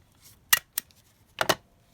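Scissors snip through paper ephemera at close range in a quiet room, with one crisp cut, a second short snip, then a quick double snip.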